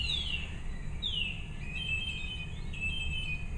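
A bird mimicking a mobile phone whistles short, falling electronic-sounding chirps like a ringtone, a few phrases in a row, faint over steady low background rumble.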